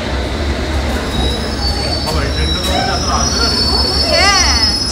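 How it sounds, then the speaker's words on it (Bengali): A train pulls into a station on the Scotland-to-London route, its wheels squealing loudly against the rails with a rising and falling screech over a steady rumble, and faint voices in the background. "একটু যে আমাদের ট্রেন এসে গেছে।"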